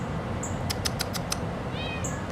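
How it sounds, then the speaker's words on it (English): A faint, short cat meow over a steady background hiss, preceded by a quick run of light clicks. "Hey Sam, I did hear a kitty."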